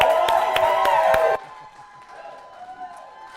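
Gala crowd applauding and cheering a comedian's introduction, dense clapping with whoops for over a second, then cutting off abruptly to quieter room noise and faint voices.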